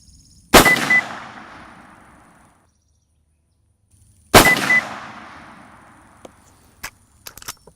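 Two loud rifle shots about four seconds apart, fired while zeroing a Conquest V4 scope, each a hard crack trailing into a long echoing tail, followed by faint clicks and small knocks.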